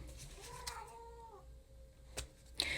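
House cat giving a single drawn-out meow, quiet and fairly close indoors, followed by a couple of faint clicks and knocks.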